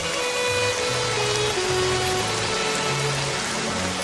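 Heavy rain in a cartoon scene falls as a steady, dense wash of hiss with no breaks, filling the whole moment. A faint low tone hums underneath and no one speaks.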